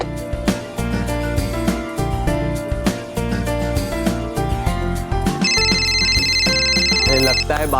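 A telephone rings with a repeated electronic trill, loud and sustained in the later seconds, layered over dramatic background music in a Hindi fantasy TV serial scene.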